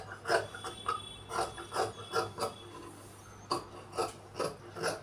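Scissors cut through chudidar pant fabric in a quick series of close, rasping snips and slides, about a dozen strokes with short pauses between.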